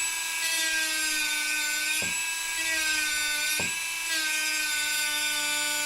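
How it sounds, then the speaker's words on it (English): A Dremel 4000 rotary tool fitted with a sandpaper-style sanding bit whines at a steady high pitch while grinding against a workpiece, close and loud, with two brief scraping bumps as it bites in. "This is a Dremel 4000."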